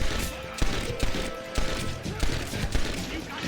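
Rapid gunfire in the Red Dead Redemption video game, a dense stream of close, sharp shots and bursts with no break, overlapping one another across the whole stretch.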